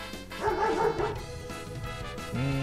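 A dog in a narrow alley scene from a PS Vita dating game barks and yips several times in quick, uneven bursts, fairly close, over soft background music with no talking.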